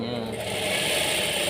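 A sewing machine runs steadily and close by, a continuous whirring stitch with no pauses, used while fixing puckered seams.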